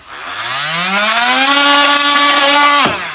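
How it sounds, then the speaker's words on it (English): An oscillating multi-tool buzzes to life, its harsh whine climbing in pitch, holding steady and loud, then cutting off abruptly near the end. "with this tool, and that's called a multi-tool."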